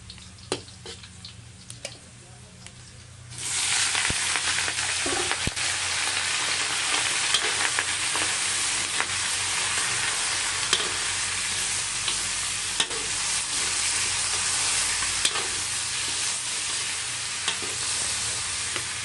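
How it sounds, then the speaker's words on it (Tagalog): Shrimp hits a hot pan for sautéing, and after a few quiet seconds a loud, dense sizzle takes over and holds steady, with occasional stirring clinks and scrapes, close up and without talk. "Igisado lang natin yung ating shrimp"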